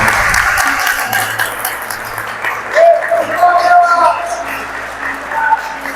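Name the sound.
congregation applauding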